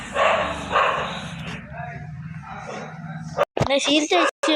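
Dogs bark and yip in Minecraft, with several bursts over game noise and a speaking voice.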